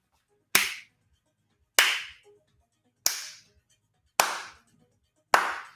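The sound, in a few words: slow clap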